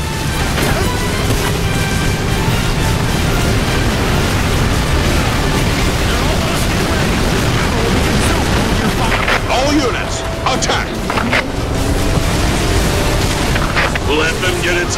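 Heavy, continuous barrage of air raid explosions in the video game Earth Defense Force 6, on a plains battlefield, with rumbling booms and crashes packed densely throughout, loud and unbroken, while voices shout over the din.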